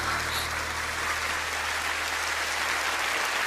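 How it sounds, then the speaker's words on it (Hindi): Sustained applause from a student council audience at a school gathering, a dense, steady wash of clapping that fills the whole moment at even loudness, with a low hum running underneath. "आलिया, ये तालियां तुम्हारी वजह से बज रही हैं।"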